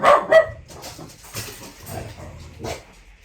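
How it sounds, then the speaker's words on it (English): Dogs bark in a home after a door bangs: two loud, close yaps open it, then scattered barks and whimpering yips follow through the rest. "it set the dogs off because they thought the front door's gone"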